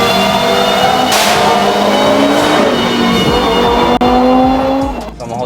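Audi S1 E2 Quattro rally car engine roaring loud and close, rising through revs with harmonic sweeps, then a sharp drop as the throttle lifts near the end, no voices.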